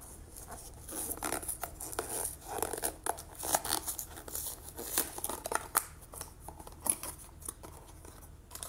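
Scissors snip and crunch through the tape sealing a blind box, making a close, quiet run of irregular cuts and crinkles with no talking.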